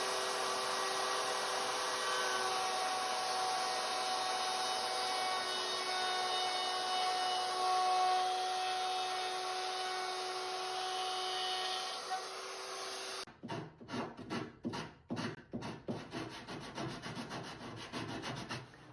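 A wood router cuts into a wooden top with a steady, high-pitched whine for about thirteen seconds, then stops abruptly and gives way to a series of rhythmic scraping and rubbing strokes.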